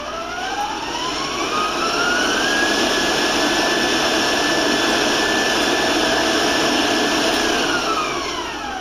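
An electric mixer beating eggs one at a time into coconut cake batter, a loud, steady whirring drone with a rising and falling whine, close and continuous throughout.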